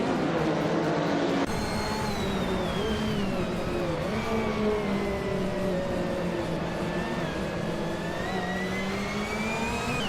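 KTM Crossbow GT4 race cars at Ottawa Drift Circuit in a racing game, engines whining and revving steadily with pitch rising and falling through tight corners, a continuous close mechanical drone.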